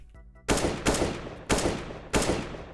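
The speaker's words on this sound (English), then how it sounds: "that was like 4 shots, haven't moved the crosshair, all in the exact same spot" Four loud, sharp rifle shots in CS:GO, each a sudden crack with a short decaying tail, fired at a steady uneven pace after a brief quiet moment.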